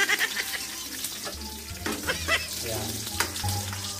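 Garlic frying in a pan, a steady crackling sizzle with bursts of stirring and scraping, close up; a voice hums or speaks faintly low underneath at times.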